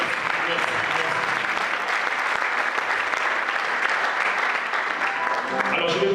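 A church congregation applauds to acclaim the Lord, steady, dense clapping filling the whole stretch at close range, with a few voices mixed in.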